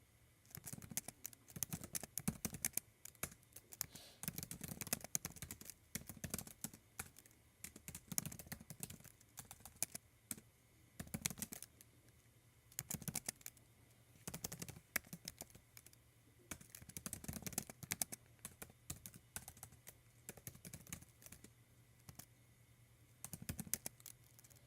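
Computer keyboard typing in steady bursts of quick, close clicks and key taps, pausing briefly between runs, with no voices.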